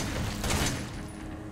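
A Resident Evil 7 game explosion bursts out, a broad rumbling blast over dense noise with crackling debris.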